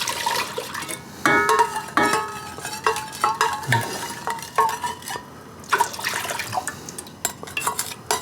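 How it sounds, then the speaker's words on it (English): Sticky tea syrup poured into a metal pot for Wisconsin brandy slush, with clinks of the pot and utensils over a soft liquid trickle and handling noises. "I'm going to use this pot. I'm going to put my tea syrup in there first."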